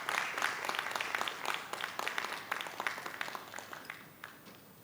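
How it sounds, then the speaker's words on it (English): An audience at a corporate event on blue-collar employee welfare bursts into applause, dense clapping that starts strong and slowly thins out over several seconds. "Give him a round of applause."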